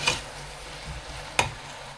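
A spoon stirs giant aubergine with meat in a pan, giving two brief scraping strokes, one at the start and a sharper one near the end, over a quiet background.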